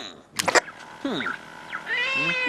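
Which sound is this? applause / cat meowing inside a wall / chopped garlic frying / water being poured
cat meowing inside a wall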